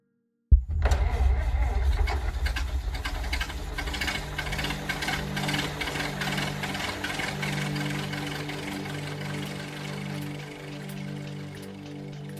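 An early internal combustion automobile engine cranks and catches with a sudden burst, then settles into a steady rattling idle that slowly fades, heard alone without voices.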